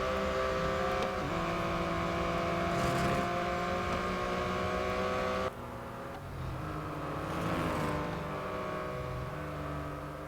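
A Porsche Boxster GTS races in the Real Racing 3 game on an iPad, its engine droning steadily with rising and falling pitch and a brief drop in level midway, with no voices.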